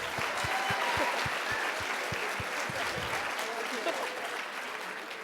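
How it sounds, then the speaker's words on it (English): An audience at a university admissions day applauds a student panel, a steady wash of clapping with a rhythmic thumping beat underneath early on that stops midway, while a voice briefly speaks over it. "Let's give them one more round of applause."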